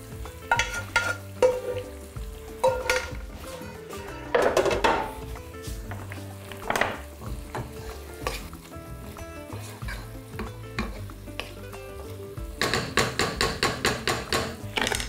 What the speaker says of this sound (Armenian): այսպես հենց յուղով լցնում ենք բանջարեղենի վրա